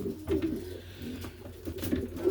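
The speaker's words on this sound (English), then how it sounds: "Absolute fantastic pigeons these have been for us" Racing pigeons in a loft giving low, soft repeated coos, close and fairly quiet, with some light rustling and no talking.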